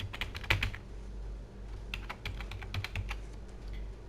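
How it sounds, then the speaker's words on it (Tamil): Someone types a password on a computer keyboard, a close run of quick, light key clicks in uneven bursts with short pauses between. "அண்ட் இப்போ நான் அதே பாஸ்வேர்டை நம்ம இங்கே டைப் பண்ணணும்"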